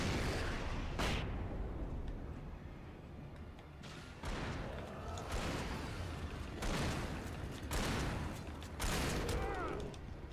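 Flashbang grenades and gunfire burst repeatedly in the Alan Wake video game, a string of loud, booming blasts spaced a second or two apart over low rumbling, with a voice talking between them.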